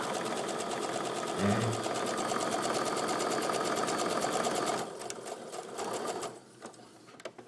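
A sewing machine runs in a fast, even stitching rhythm while chain piecing quilt block pieces, then slows and stops near the end; a brief word is spoken.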